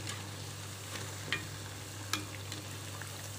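Bajji fritters fry in hot oil, a soft continuous sizzle with a low steady hum beneath and a couple of brief crackling pops.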